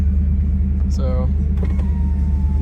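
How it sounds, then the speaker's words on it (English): Power windows of a restored 1990 Chevrolet Suburban V1500 Silverado 4x4 whir under a steady loud engine rumble inside the cab, with a brief voice heard partway through. "all the windows work great"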